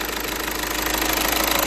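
A 2012 VW Touran 1.6 TDI diesel engine idles steadily after rocker gasket and injector seal work, giving a close, even knocking rumble with a regular clatter throughout.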